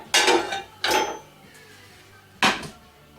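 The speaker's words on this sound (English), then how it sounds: "I'm going to get a pan to cook the spam in." A metal pan is pulled out and set down for cooking Spam, giving three sharp, close clanks separated by quiet pauses.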